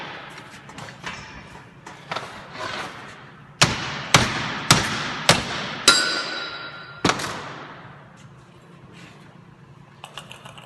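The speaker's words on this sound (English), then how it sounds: "now I'm going to remove this seal assembly off the end of this stub axle just by tapping on the" A hammer taps a seal assembly off the end of a Ford F250/F350 Super Duty 4x4 stub axle: a series of sharp metallic strikes, about seven distinct close blows in an uneven rhythm, with lighter clinks before and after.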